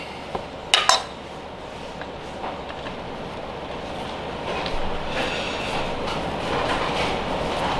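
Shimeji mushrooms are trimmed at the root end with a kitchen knife, giving two sharp taps against the board near the start. A steady broadband background hiss runs under the rest of the clip.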